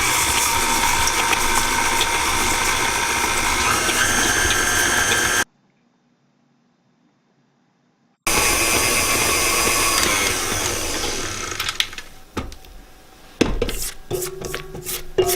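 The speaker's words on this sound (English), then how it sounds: "put it in the bowl of a stand mixer and mix it on medium speed for about 2 minutes" A stand mixer beats butter with brown and granulated sugar on medium speed, a loud continuous motor whir that stops for a few seconds, resumes, then ends in scattered clanks and knocks.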